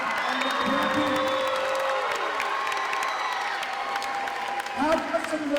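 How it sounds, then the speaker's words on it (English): Crowd in a high school gym clapping and cheering for the student council, with whoops and voices mixed throughout, steady and fairly loud, a brief swell near the end. "How about a round of applause for our amazing student council for the promotion and the prepping?"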